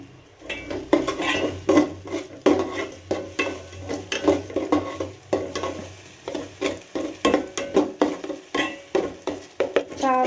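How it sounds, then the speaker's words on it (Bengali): Vegetables, including cauliflower, are fried in a pan with repeated rhythmic spatula scrapes and clinks over a background sizzle, close and loud, with no speech. "সবজিগুলাই একটু ভেজে নিচ্ছি"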